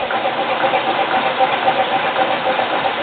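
A 1916 Economy 2.5 hp hit-and-miss stationary engine in original paint runs steadily, giving a continuous mechanical chugging and clatter, heard alone and close without talk.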